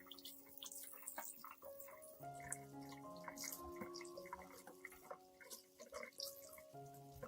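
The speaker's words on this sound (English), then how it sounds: "I will rinse the entire plant with clean water to remove dust, bacteria, and impurities still clinging to the stem and roots." Running water pours and trickles as a plant is rinsed clean of dust at its stem and roots, a steady close splashing with drips, mixed with soft background music.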